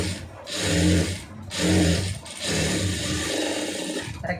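Sewing machine stitching a quarter-inch folded hem on a lined blouse, running in three close bursts of rapid mechanical whirring and ticking with short pauses between them.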